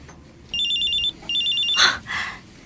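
A cellphone rings with an incoming call: two bright warbling ring bursts, loud and close, followed by soft handling noises.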